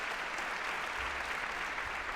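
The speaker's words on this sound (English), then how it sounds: "Applaud that, yes." Applause from an audience at a Montgomery County MLK Day celebration: steady, dense clapping that carries evenly from start to finish at moderate volume, with no voices standing out.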